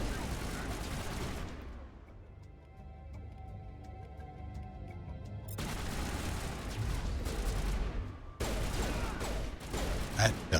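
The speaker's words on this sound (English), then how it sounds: "Those are turrets." Turrets fire in Mass Effect, bursts of loud crackling shots and booms broken by a quieter mechanical stretch, then resuming heavily near the end.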